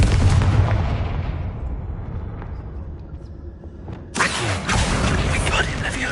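A Confringo fire spell in Hogwarts Legacy erupts in a heavy boom that fades into a rumbling decay, followed a few seconds later by a second sharp, bright blast.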